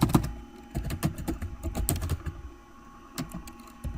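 Rapid clusters of crisp key clicks from typing on a computer keyboard, heard close up in irregular bursts with brief pauses between them.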